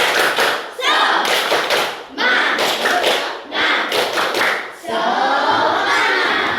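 A class of children claps a rhythmic cheer in the classroom, bursts of loud unison hand claps in repeated patterns separated by short pauses, with some thumping and young voices mixed in.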